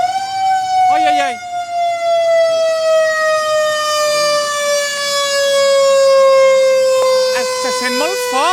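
A civil-defense-type factory shift siren wails loudly and continuously with a slowly falling pitch, while people talk briefly over it and a short bird-like chirp is heard near the start.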